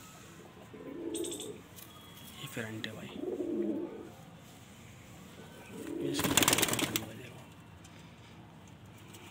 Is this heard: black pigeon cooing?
yes